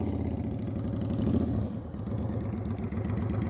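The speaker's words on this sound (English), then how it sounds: "Plus, he's riding a Goldwing." Honda Goldwing touring motorcycle riding at slow speed, its engine a steady low rumble with a rapid pulsing beat, fairly close and continuous with a slight dip midway.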